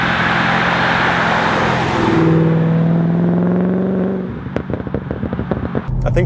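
An Audi S4 V8 with a Fast Intentions exhaust pulls hard in third gear, a loud, steady engine drone climbing in pitch for a few seconds before easing off into lighter rumbles and crackles.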